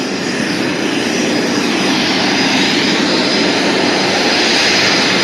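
A CRJ200 regional jet's number 2 engine spools up during start at an airport gate, a loud, steady broadband roar and whine filling the whole span without any talking.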